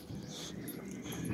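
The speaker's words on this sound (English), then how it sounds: "Here comes my big dog now." A big dog whimpers and whines softly at close range, a short strained nasal sound that runs on without pause.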